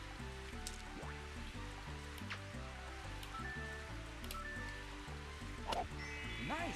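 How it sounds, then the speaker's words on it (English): Steady rain falls in the Mario Golf 64 video game, a soft continuous hiss of drops running under bright synthesized game music with chiming tones throughout. "there's no rain clouds, it's just raining"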